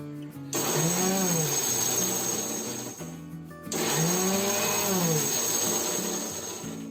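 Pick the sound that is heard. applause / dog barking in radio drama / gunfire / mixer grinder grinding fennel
mixer grinder grinding fennel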